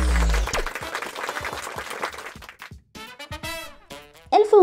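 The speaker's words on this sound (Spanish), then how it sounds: "vamos a recibirle con un fuerte aplauso" An audience gives a welcoming round of applause that fades over a few seconds, followed by a voice speaking and tonal sounds.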